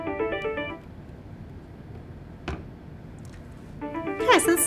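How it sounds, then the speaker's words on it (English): An Alcatel Lucent 4029 desk phone rings with an incoming call, giving a short electronic trill at the start and another after a pause of a few seconds, over a quiet room. "So this is the call coming into my phone"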